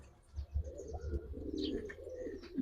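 Giribaz racing pigeons coo softly in a loft, low murmuring calls repeating close by, with faint higher chirps and light rustling around them.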